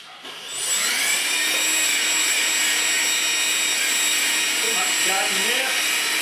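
Small RC jetpack model's engine spooling up and revving, a loud steady high-pitched whine that rises within the first second and holds close and continuous, with faint voice fragments near the end.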